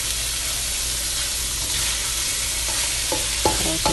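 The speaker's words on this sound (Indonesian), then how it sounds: "Nah ini tahunya aku goreng dulu, tapi ini ikannya sudah aku goreng ya." Tofu fries in a pan with a constant bright sizzle and hiss, with a few clinks and scrapes of stirring near the end, no talk.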